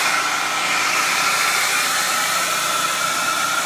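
A hairdryer on high power blows steadily at close range, drying a Mondo Extreme 5.8 GHz video transmitter, an even, loud airy whoosh with no voices.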